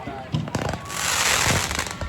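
Fourth of July fireworks crackle and pop in rapid bursts, with a dense spray of crackling in the second half. A voice is faintly audible in the background.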